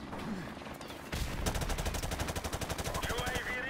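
Automatic gun in a first-person shooter fires a sustained rapid burst of evenly spaced shots, loud and close, following a stretch of quieter game ambience.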